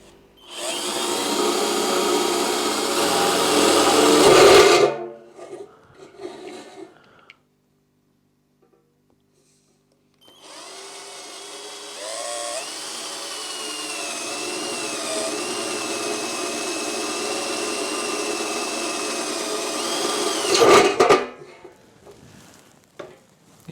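Jigsaw cutting through the thin metal bottom of a biscuit tin, a loud buzzing, rasping run of about five seconds, a pause with small clanks, then a longer cut of about ten seconds.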